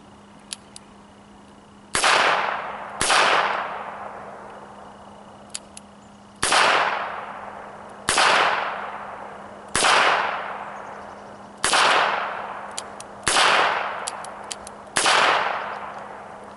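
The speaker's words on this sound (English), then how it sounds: "22 long rifle, 9-shot double action revolver. I'm going to take a few shots with it." A High Standard Sentinel R-101 nine-shot double-action revolver in .22 Long Rifle fires eight sharp, loud shots at irregular intervals of one to four seconds, each followed by a brief echoing decay, with faint clicks between shots.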